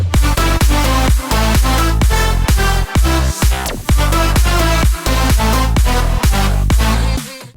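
Loud future bounce EDM drop with pumping bass hits, bouncy plucked lead melody and punchy drums in a driving, repetitive groove, dense and close with no voices.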